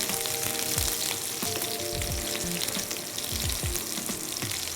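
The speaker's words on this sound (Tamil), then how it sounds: "நம்ம சின்ன வெங்காயம், கருவேப்பிலை, ஒரே ஒரு வரமிளகா கிள்ளி போட்டுருங்க அதில்" Small onions, curry leaves and a broken dried red chilli sauté in hot oil in a pan, giving a continuous close sizzle with occasional stirring scrapes and pops.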